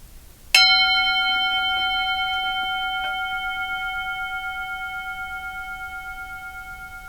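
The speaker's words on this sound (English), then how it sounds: "I'm going to ring the bell and I'm going to ask you to listen carefully." A single bell is struck once and rings out with a clear metallic tone, sustaining and slowly fading for several seconds with no other sounds.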